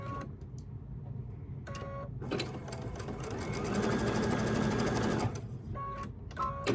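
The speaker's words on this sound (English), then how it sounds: "we're going to stitch that onto the edge." A sewing machine stitches quilt pieces in short bursts, then runs in one steady, fast whirring stretch that builds slightly louder before stopping, close and clear with no talking over it.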